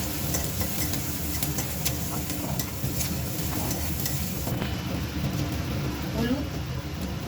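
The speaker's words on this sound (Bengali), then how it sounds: "সব ভেজে নেবো।" Grated ginger, garlic and green chillies for chicken momo fry and get stirred in a pan, a dense, loud, continuous sizzle with scraping stirs running close and steady throughout.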